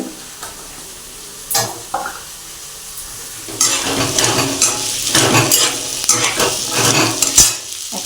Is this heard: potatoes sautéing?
yes